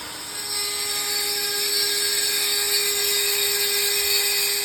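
Carbide bit drilling into a glass jar, a steady high whining grind with ringing tones that starts after a brief moment and holds evenly, close and fairly loud.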